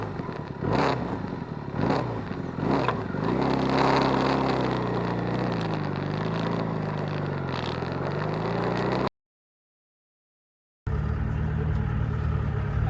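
A motorcycle ridden on a road trip toward Kanthalloor, Kerala, before dawn, its engine droning steadily with wind buffeting and clattering, a few louder swells, then a sudden cut to silence before the engine noise resumes.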